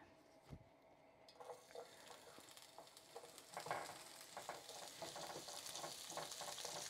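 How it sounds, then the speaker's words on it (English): Onion and garlic frying in hot oil give a quiet, steady sizzle, with soft stirring scrapes and pan knocks over it. "I've just heated the oil. Now in here I've got the onion and the garlic"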